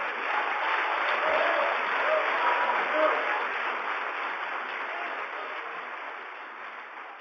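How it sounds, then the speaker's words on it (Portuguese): A church congregation applauds at the close of a sermon, a steady dense wash of clapping that holds at a fairly even level throughout and thins slightly toward the end. "Quem recebe, aplauda ele forte."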